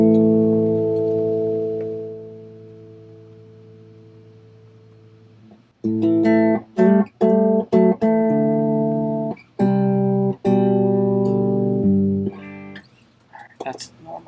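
An electric guitar rings out through a Trinity Amps 5e3 Tweed Deluxe tube amplifier, first a long sustained chord fading out, then a run of short, punchy strummed chords.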